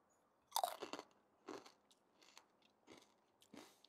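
Crispy pork skin mixed into low-and-slow pulled pork being bitten and chewed up close, a sharp crunch followed by several quieter crackling chews in an uneven rhythm, with no talking.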